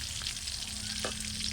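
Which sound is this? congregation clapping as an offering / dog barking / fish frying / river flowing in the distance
fish frying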